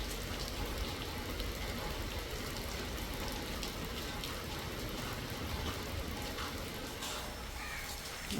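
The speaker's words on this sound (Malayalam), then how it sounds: "മഴ പെയ്യാൻ തുടങ്ങി." Rain beginning to fall outdoors on a farm plot in Mannancheri, Alappuzha, a steady dense hiss of drops patters continuously at even loudness throughout.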